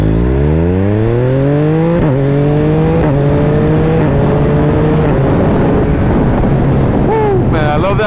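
A 2021 Yamaha MT-09 motorcycle accelerates hard under loud wind rush, its engine note climbing and dropping sharply at each quick-shifter gear change, several shifts in a row.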